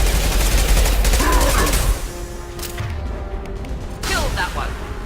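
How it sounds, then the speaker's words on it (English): Impact shot gunfire in the sci-fi shooter Mass Effect 2 rattles in a dense, loud burst of shots and booms. A voice speaks over the combat noise as the firing tails off into lighter battle sounds. "Firing an impact shot!"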